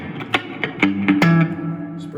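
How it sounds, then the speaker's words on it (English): A guitar plays single notes and chords through a Fender Champion 20 amp with its spring reverb effect, each pluck ringing out with a splashy, decaying tail, loud and close with no voice over it. "I'm gonna go back to the reverb here."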